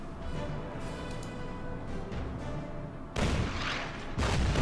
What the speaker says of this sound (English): Artillery fire on my Panzer IV in the northeast